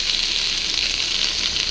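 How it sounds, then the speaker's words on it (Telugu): Ginger, garlic and green chilli fry in a pan for fried rice, giving a steady, loud, close sizzle with no pauses and no talk. "ఇది ఇలా వేగుతుండగా దీంట్లో అల్లం, వెల్లుల్లి, ఒక పచ్చిమిర్చి"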